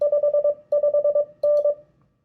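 Morse code beeps of a signal report 559 in a steady tone: quick runs of short dits with brief pauses between groups, clear and close, no voices.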